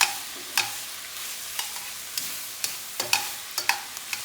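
Vegetables cook slowly in a pan with a soft, steady sizzle, broken by frequent light scrapes and taps of a spoon stirring them.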